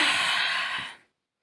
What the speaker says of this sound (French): je bâille,